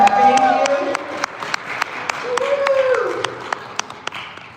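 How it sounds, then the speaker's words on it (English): Scattered claps ring out at a community MLK Sunday dinner to thank the cook. The sharp, separate claps come in a loose rhythm while voices and tonal sounds continue underneath. "Can we give him a round of applause and thank you?"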